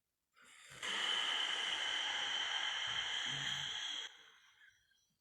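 A long, breathy exhale during meditation, rising quickly and holding a steady rush of air for about three seconds before tapering off, close and alone.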